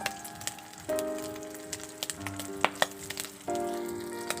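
Vegetables frying in a pan for Ilocano-style pinakbet until browned, a soft steady sizzle with scattered crackles and pops, fairly quiet and heard alone.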